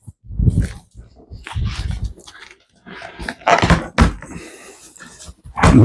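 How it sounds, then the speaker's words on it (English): A pet dog barks in a house during an electric mountain bike unboxing, giving several loud, sharp barks spaced a second or two apart, with a person speaking briefly in between. "And there's my dog"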